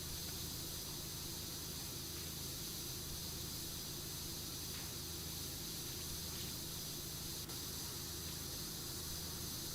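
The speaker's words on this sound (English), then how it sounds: "I find myself zoning out to the nice, soothing sounds of the water spraying" A pressure washer sprays water without pause in the PowerWash Simulator video game, a steady, even hiss of moderate level with no talk over it.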